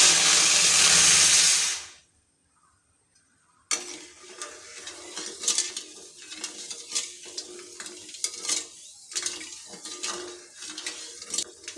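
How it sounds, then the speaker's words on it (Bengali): A pot of sugar and water is stirred into syrup for gaja. A loud rush of hiss is followed by a short silence, then irregular clinks and scrapes of stirring over soft bubbling, close by, with no talking. "ভালোভাবে নাড়াচাড়া করে চিনির শিরাটা বানিয়ে নেব"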